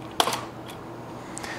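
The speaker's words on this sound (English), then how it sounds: "trigger the shutter button on the camera. What that's going to do is lift up the mirror and close down the leaf." Shutter release on a Mamiya RB67 medium-format camera with a leaf-shutter lens, giving a sharp mechanical click as the mirror lifts, a couple of quieter follow-up clicks and a faint tick near the end, close and alone.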